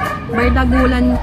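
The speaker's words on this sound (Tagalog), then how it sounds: "Pasensya na kayo sa ingay ng aso sa kapitbahay" A neighbour's dog barks and yips loudly at close range in one sustained, whiny burst lasting about a second, with no other sound around it.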